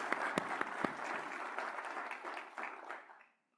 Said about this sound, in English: let's have a round of applause for Ian, Joe,